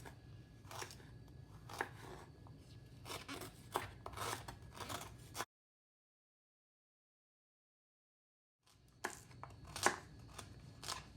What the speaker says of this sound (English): I'm gonna cut my ginger first